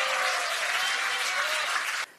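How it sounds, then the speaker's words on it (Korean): Audience applause at a Korean political party campaign launch rally in Seoul: dense, steady clapping from a crowd that cuts off abruptly near the end. "여러분 다시 한번 김용호 서울시당 상임선거대책위원장님께 뜨거운 박수 부탁드립니다"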